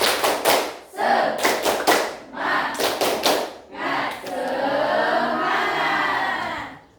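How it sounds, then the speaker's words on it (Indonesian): A group of students in a morning class doing a rhythmic spirit clap, with several quick bursts of patterned clapping and pauses between them, ending in a longer stretch of loud, even clapping mixed with shouting voices. "Tepuk semangat"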